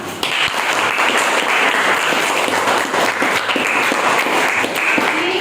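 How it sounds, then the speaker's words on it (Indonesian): A classroom of students clapping together at the teacher's prompt, a brisk, continuous round of applause lasting several seconds, close and lively. "tepuk tangan dulu"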